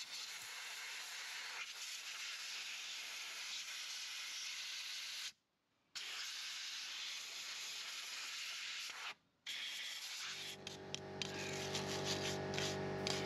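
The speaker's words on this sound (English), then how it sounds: "I clean up around the brake shoes using an air hose." An air hose blasts clean around the rear brake shoes of a 2005 Land Rover Discovery 3 TDV6, a steady close hiss broken by two brief pauses, then changing into a rougher, louder rushing tone near the end.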